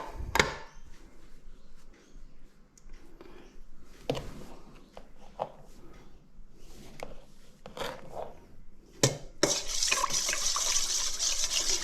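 Water for pizza dough is poured into a mixing container alongside brown sugar: a steady, close splashing stream that builds toward the end, following brief clinks and knocks of kitchen handling.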